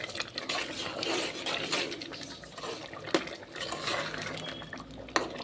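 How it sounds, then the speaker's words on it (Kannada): A South Indian style rajma curry with coriander is stirred in a pot: soft, wet churning of thick gravy with a couple of sharp metallic clinks of the spoon against the pot. "ಒಂದು ಸತಿ ನೀಟಾಗಿ ಮಿಕ್ಸ್ ಕೊಡೋದು."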